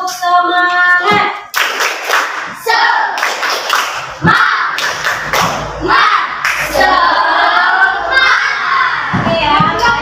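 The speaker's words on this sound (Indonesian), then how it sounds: "ayo tepuk semangat" A group of schoolchildren performs a rhythmic spirit clap in a classroom, with loud patterned hand claps, thumps and shouted chant-like voices running continuously and close.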